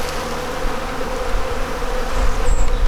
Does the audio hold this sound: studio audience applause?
no